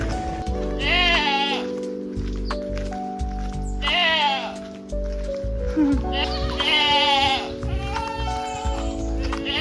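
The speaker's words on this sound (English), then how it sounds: "Hey, goats." Goats bleat in several loud, wavering calls close by, roughly four drawn-out cries spaced a couple of seconds apart over a steady low engine or boat hum, with a person talking briefly.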